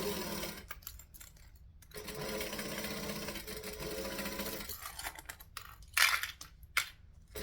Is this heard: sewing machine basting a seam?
yes